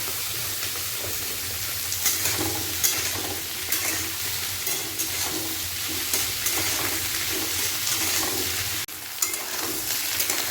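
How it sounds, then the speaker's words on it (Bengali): Beans, potatoes and onions sizzle together in a pan for a vegetarian dish, a steady close frying hiss broken by scattered clinks and scrapes of stirring. "শিমটা এখনও ভাজছি।"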